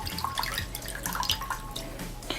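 Water splashes and drips close up onto a pair of AirPods Pro earbuds, aimed at the speaker openings, in a steady patter of small trickling droplets with no talking.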